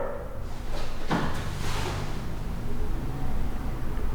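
A door is shut in an old mansion, giving one sharp mid-clip thud over a steady rushing background with some faint bumps around it.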